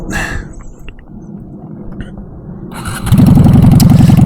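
A Honda Shadow motorcycle engine starts after a stretch of quiet rustling, then settles into a loud, steady, throbbing idle close by.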